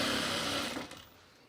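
A single-needle sewing machine stitches stretchy fabric with a brief, fast mechanical whir that trails off after about a second into quiet.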